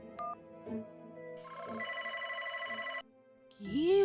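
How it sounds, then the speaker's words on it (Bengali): A telephone rings again and again with no answer late at night, its electronic tone sounding in steady repeated bursts with short gaps, fairly close and clear, with no talking over it. "ফোন তো বেজে যাচ্ছে, ফোনটা ধরছে না কেন?"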